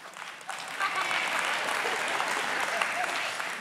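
A church audience applauding during a sermon, a dense, steady clapping that swells quickly and carries on for several seconds at a moderate level.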